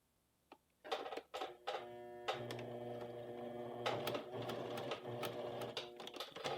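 A sewing machine stitches a blouse collar in short, quiet stop-start runs, with a mechanical hum and clicks between them, close but soft.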